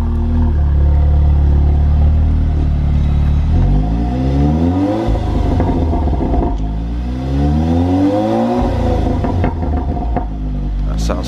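Volkswagen Golf R with a newly fitted aftermarket exhaust, revving loudly at close range: a deep idle rumble rising through several sweeping revs and falling back, with voices talking underneath.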